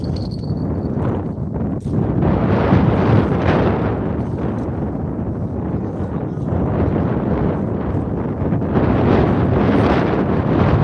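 Continuous wind buffeting a microphone outdoors on ice while ice fishing, producing a rumbling, gusty roar that rises and falls without letup.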